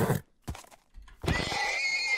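A horse neighs in the Minecraft video game, a short whinny and a bump, then a longer bright rising neigh holding steady to the end, close and clear with no talk over it.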